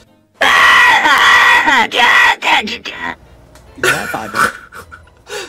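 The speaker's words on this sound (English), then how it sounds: "Chris screams, a huge scream" An AI-generated voice of the Family Guy character Chris lets out a huge, loud scream, starting abruptly and breaking into ragged, strained bursts and panting yells over several seconds.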